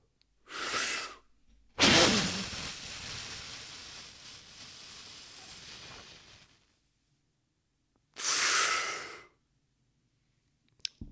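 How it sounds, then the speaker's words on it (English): Deep breathing in a spirometry demonstration: a short breath, then a sharp deep inhale running into a long forceful exhale that tapers over several seconds, and a later strong breath, all close and alone with quiet gaps between. "I have to breathe in deeply, forcefully, fill my lungs with air, blow out, squeeze until there's nothing coming out"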